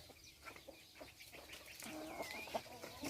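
Chickens kept on a small farm cluck and call in short, scattered bursts, fairly faint and distant over quiet outdoor background.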